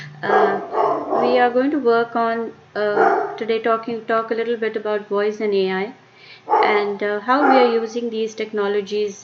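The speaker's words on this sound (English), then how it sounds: "sorry about my dog shouting" A dog barks in short bursts indoors, partly masked by someone speaking continuously close to the microphone.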